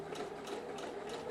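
A sewing machine stitches fabric in a steady, fast mechanical whir with faint rhythmic ticking, close and continuous, alone without talk.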